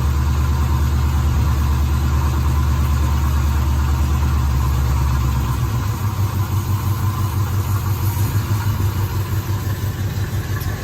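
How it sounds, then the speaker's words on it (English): A restored Pontiac Firebird V8 runs steadily at idle on a driveway, a loud, close, continuous low rumble with a throbbing cylinder pulse that slows slightly partway through. "Car's been running a couple of minutes."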